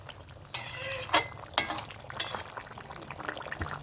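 Fried rohu fish pieces go into a simmering curry with potato, brinjal and lentil dumplings, giving a few soft splashes and stirring scrapes over a steady low bubble and sizzle.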